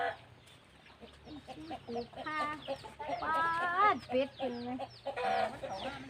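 Chickens on a countryside farm where ducks and chickens are raised, clucking and squawking in a lively, irregular run of calls at moderate distance over faint rural background noise.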